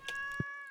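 A pet cat lets out a single short, high meow, clear and close in a quiet room, followed by a soft low thump.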